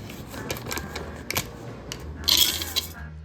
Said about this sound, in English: That was the sound of 10 ounces of Chow Mein Noodles into a large mixing bowl